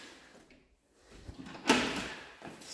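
An apartment door in a two-level flat swings and thuds shut with one sharp, fairly close knock, followed by a softer bump a moment later in a quiet room.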